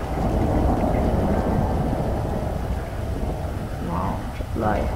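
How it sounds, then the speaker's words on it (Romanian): Heavy rain pours down at night near a cemetery in a dense, continuous roar that stays loud and steady throughout. "Wow, ce ploaie."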